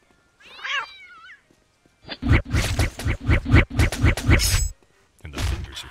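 Cat meowing in the video game Postal 2: a single drawn-out meow, then a loud rapid series of repeated yowling meows and wails close up, ending with one more short cry.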